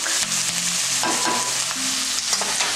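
Carrots sizzle and fry in a pan for pancit canton guisado, stirred with scraping strokes and close, crackling sizzling throughout.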